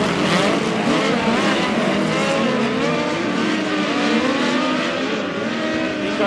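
Midget race cars roar around Valley Speedway in a POWRi league race, a loud, continuous pack of engines howling close by with shifting pitch as they pass, steady and dense throughout.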